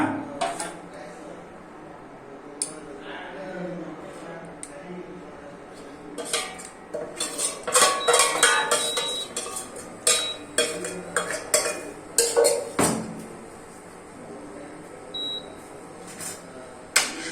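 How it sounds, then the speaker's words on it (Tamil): A spoon repeatedly scrapes and clanks against a metal pan as thick sprouted-grain flour halwa is stirred, with irregular knocks and brief pauses. "கிண்டிக்கிட்டே இருக்கணும்"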